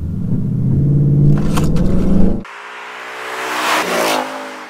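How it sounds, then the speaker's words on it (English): A Ford Mustang engine revs up against the held brake to a loud rising roar, then drops sharply as it launches and pulls away, climbing again through the gears. "I'm going to hold the brake with my left, build up some revs, and then let it go."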